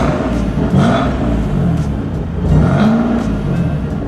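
A stock turbo VQ car engine with its exhaust valves closed revs loud and close in a muffled, rumbling roar that swells a couple of times, with no talk.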